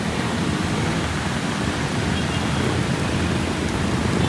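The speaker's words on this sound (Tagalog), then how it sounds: "Ang lakas ng bulwak ng tubig dito oh." Floodwater gushes hard along a flooded street near Jose Abad Santos in Tayuman, Manila, during heavy rain, a dense, steady roar of rushing water that fills the whole stretch without a break.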